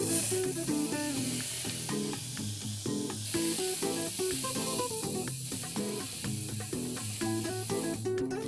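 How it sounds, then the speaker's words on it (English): Chopped spring onions and previously boiled vegetables sauté in heated butter in a pan, a soft steady sizzle and hiss under prominent background music, with no speech. "Once the butter has heated up, we'll add in chopped spring onions and saute them"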